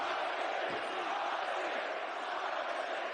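Boisterous home crowd at a Latvian boxing match for Mairis Briedis against Krzysztof Glowacki, a steady loud roar of cheering and shouting that fills the whole stretch.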